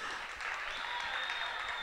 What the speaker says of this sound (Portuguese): eu quero que batam só umas salvas de palmas para o Braza